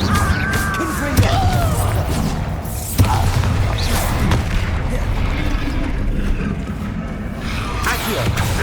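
Incendio and Confringo spell blasts in Hogwarts Legacy combat: repeated heavy booms and crashing impacts over a constant loud roar of battle noise, with sharp hits near 1 and 3 seconds.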